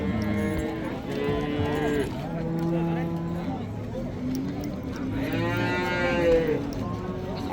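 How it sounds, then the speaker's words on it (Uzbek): Cattle low repeatedly at a busy livestock market in Kitob, with long, drawn-out moos rising and falling close by while people talk and deal in the background. "Juda suyagi katta sigir ekan."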